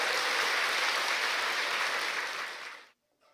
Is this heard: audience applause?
yes